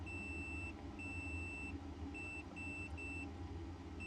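A multimeter continuity tester beeping while probing a fuse on a PS5 board, several clear high steady tones of varying length with short gaps, over a low background hum.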